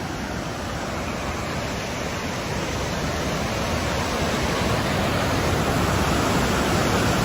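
Powerful rushing water of the Ganges river in the mountains near a broken bridge, a loud, continuous roar filling the whole clip with no voices.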